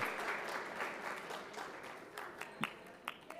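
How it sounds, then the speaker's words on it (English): Audience at a fundraiser auction applauding, a sustained wash of clapping with a few sharper individual claps standing out toward the end. "Round of applause."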